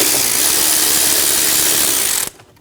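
A power driver with a T15 bit whirs loudly and continuously, backing out intake screws on a 2.5L five-cylinder Volkswagen Passat engine, then stops abruptly after about two seconds.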